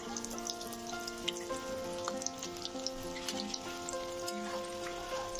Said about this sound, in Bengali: কড়াইয়ে সাদা তেল দিয়েছি আর মাঝারি আছে, আমি এখন এই কাটলেটগুলো ভেজে নিচ্ছি।